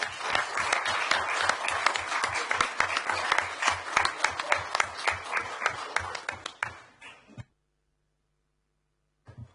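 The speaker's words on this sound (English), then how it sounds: "Shall we give them a round of applause?" Scattered clapping from a council chamber audience greets visiting children at a council meeting, a steady patter of individual hand claps lasting about seven seconds before cutting off abruptly into silence.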